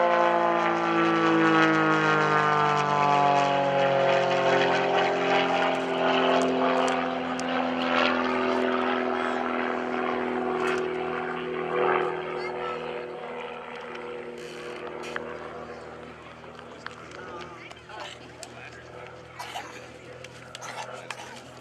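An S1S aerobatic propeller plane passes overhead at an airshow, a loud droning engine whose pitch sweeps downward as it flies by and fades, with a voice talking over it.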